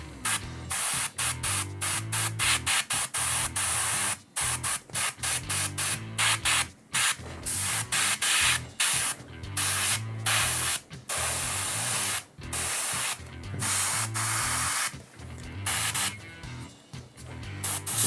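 Repeated sharp hissing bursts of a spray bottle misting, fired in quick irregular pumps, close and loud with short pauses between.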